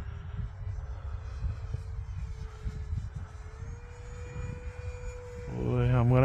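A small E-flite Cirrus SR22T RC plane flying over winter grass, its electric motor whining steadily at a distance with a rising pitch change near the end as the throttle shifts, and a faint hum of voices underneath.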